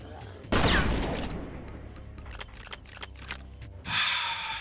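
Chaingunner enemy firing in a Doom mod video game, a loud rapid burst of gunfire that breaks into separate clicking shots, then another dense blast near the end.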